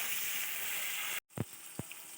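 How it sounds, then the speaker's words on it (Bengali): Onion, bay leaves and tomatoes frying in hot oil make a loud even sizzle, which cuts out briefly and then returns softer, broken by a couple of thuds as the tomatoes drop in. "বাদ বাকি যে পেঁয়াজটা ছিল সেটা আর কয়েকটা তেজপাতা দেওয়া হলো। এবার টমেটোগুলো দেওয়া হলো।"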